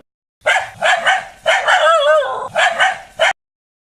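A dog barks and yips in a short cartoon scene about a yellow space dog meeting a lost robot, with a run of close, loud, tonal barks and a whining sound between them.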